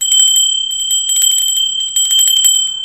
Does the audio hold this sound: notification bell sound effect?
yes